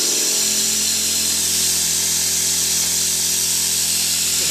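A milling machine cuts half-inch aluminum plate with a steady, loud, close machining whine and hiss that continues without a break.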